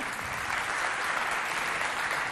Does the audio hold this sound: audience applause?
yes